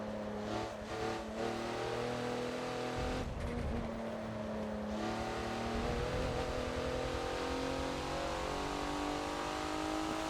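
Porsche race car in the Forza video game at Hockenheimring, a steady, droning engine note with gear-change dips and rising revs, continuous and fairly close, with no talk over it.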